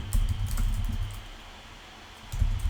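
Clattering computer keyboard keys typed in short bursts at the start and end with a quieter pause between, close and fairly loud, no voices.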